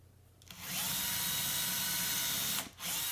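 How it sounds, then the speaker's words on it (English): An electric drill bores pin holes into an acoustic guitar neck beside the truss rod channel. Its loud, steady whine runs for about two seconds, cuts out briefly, then starts again. "drilling 2 holes for pins that will hold the fretboard in place while I'm gluing it on later"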